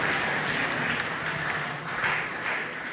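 Church congregation clapping in unison, a sustained dense wash of hands with gentle swells and dips, close and steady, no talk over it.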